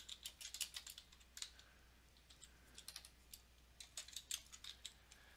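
A computer keyboard clatters as a file name is typed in for a Mixcraft project archive. Irregular runs of light, close keystrokes with brief pauses between bursts, no voices.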